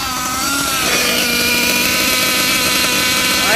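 A Losi LST XXL2 gas-powered RC truck's small engine idles with a loud, buzzing two-stroke rattle, holding a steady rough drone close by with no one talking.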